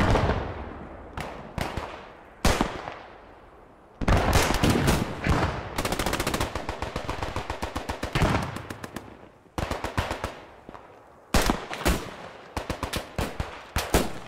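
Rapid automatic gunfire from a new weapon in the Squad 44 war game, loud sustained bursts and single shots cracking nearby, with brief pauses between volleys and no talk over them.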